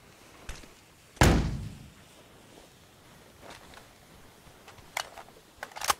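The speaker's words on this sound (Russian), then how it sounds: "Там еще тачка двери закрыла." Car doors close in a video game: one heavy, close slam stands out, with fainter thunks and knocks scattered after it against quiet background noise.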